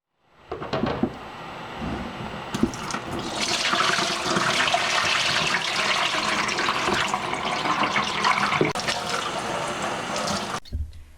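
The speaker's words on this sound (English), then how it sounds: "So here I am rinsing the clothes we washed in laundry detergent." Water runs and sloshes steadily in a laundry tub as detergent-washed clothes are rinsed, a continuous close gushing lasting about ten seconds before cutting off.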